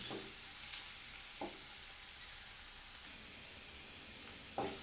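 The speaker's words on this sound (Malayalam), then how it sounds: "ഇത് നല്ലപോലെ ഒന്ന് മുരിച്ച് വറുത്തെടുക്കണം" Chopped ginger for inji puli pickle frying in oil gives a faint, even sizzle, broken by three soft scrapes of a spoon stirring the pan.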